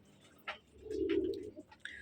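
Caged pigeons, kept in an enclosure, give one drawn-out, throaty coo near the middle, with a few short high chirps before and after and faint background noise.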